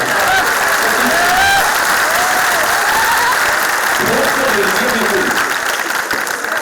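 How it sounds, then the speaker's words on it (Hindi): A crowd at a poetry recital honouring martyrs claps loudly and without a break for the whole stretch. Voices rise over the steady roar of hands. "अब दूसरे हाथ से ताली बजाओ जोर जोर से"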